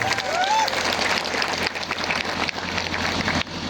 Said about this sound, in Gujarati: તમામ માટે એકવાર આપણે જોરદાર તાળીઓ પાડી લઈએ